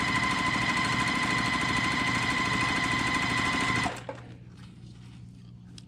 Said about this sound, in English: we're going to stitch the long side